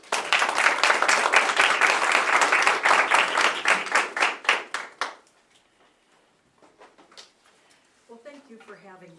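An audience claps loudly and densely for about five seconds and then tapers off into a few scattered claps. A brief voice follows near the end.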